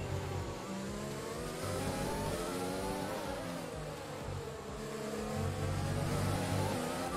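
F1 2020 race car in a video game accelerating back to racing speed, its engine note climbing through several gear shifts, loud and steady throughout with no talking.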